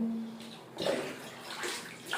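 Bath water sloshes and splashes as hands slap the surface, a run of close wet slaps and splashes with short pauses between them, no talk.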